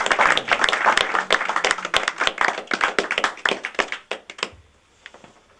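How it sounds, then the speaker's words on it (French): A small audience at a living-room concert applauds, many hands clapping close and steadily at first, then thinning into scattered claps before fading to quiet. "Vous pouvez applaudir tous ces gens-là."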